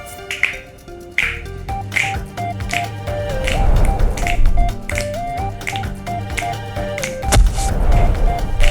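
Crisp finger snaps repeat in a steady rhythm, close and sharp, set against background music with a faint voice.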